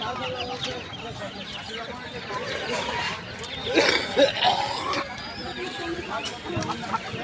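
Australian-breed chicks and other fowl at a busy outdoor poultry market, with soft clucking and peeping running steadily under nearby talk and crowd noise, a little louder around the middle.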